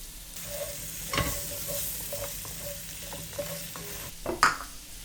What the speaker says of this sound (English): Throw in the carrots.